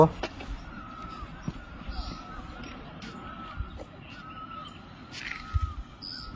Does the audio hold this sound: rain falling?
no